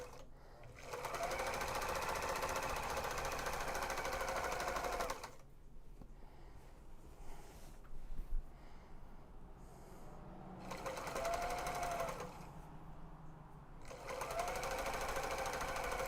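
Serger stitching fabric for cake cozies, running in two long bursts with a quieter gap between them where handling noises occur, then starting up again.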